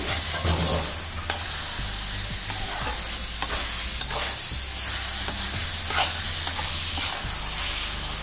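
Grated carrots fry in ghee with sugar for Bihar-style gajar ka halwa, a continuous close sizzle broken by repeated scraping stirs of a spoon in the pan.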